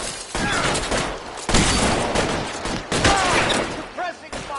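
Dense gunfire in L.A. Noire's Nicholson Electroplating shootout, a loud continuous fusillade of overlapping shots with bursts and swells, voices and shouting mixed in under the barrage.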